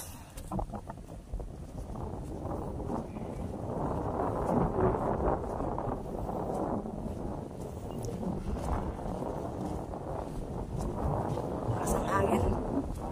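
Strong wind buffets a small motor boat out on the water, a continuous rough roar with gusty surges throughout, close and fairly loud, with voices mixed in.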